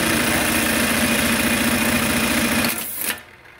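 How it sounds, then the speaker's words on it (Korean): A QQ buttonhole machine stitches buttonholes, its loud, close, rapid mechanical whirring and vibration running continuously before winding down and stopping near the end. "큐큐라는 기계입니다. 단추 구멍이 굉장히 예쁘게 나옵니다."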